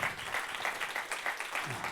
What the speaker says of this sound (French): je crois qu'un tonnerre d'applaudissements pour Claire Demarque.